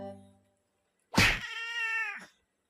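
A pet cat lets out one loud, drawn-out meow close by, opening with a sharp onset and wavering for about a second before it stops, with quiet before it.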